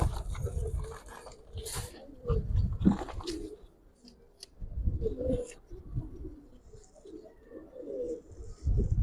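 Giribaz pigeons coo in low, repeated rumbling bursts, fairly close and moderately loud, with some rustling and other bird noises mixed in and no talk.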